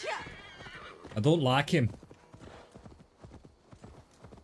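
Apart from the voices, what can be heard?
horse neighing and hooves in video game AC Valhalla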